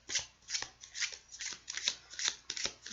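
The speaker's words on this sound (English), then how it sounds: "you're just going to have to watch me shuffle for like an hour and a half while this card falls out of the deck" A deck of tarot cards being shuffled close up, with rhythmic riffling bursts roughly every half second for three seconds and no talking.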